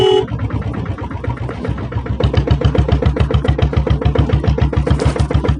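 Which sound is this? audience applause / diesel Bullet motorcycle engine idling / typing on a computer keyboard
diesel Bullet motorcycle engine idling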